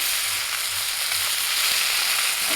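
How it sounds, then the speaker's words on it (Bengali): Vegetables with egg and potato sautéing in a pan with cumin, coriander, chili and turmeric powders and a splash of water, a steady close sizzle and frying crackle running throughout with no talking. "অল্প জল দিয়ে মশলার সাথে সবজিটাকে আরেকটুখানি কষিয়ে নিচ্ছি"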